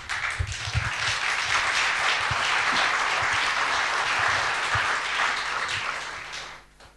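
An audience at a talk gives steady, dense applause that holds for several seconds and then tapers off at the end, with no voices.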